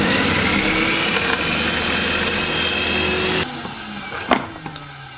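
Loud, steady whine of a power saw cutting wood at a 60-degree bevel for a wooden Shut the Box dice game, running continuously for about three seconds before cutting off, followed by a few faint clatters.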